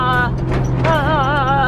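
A drift car on bouncy, worn coilovers drives along a road, steady low engine drone with a wavering whine rising over it, close and constant, no talk.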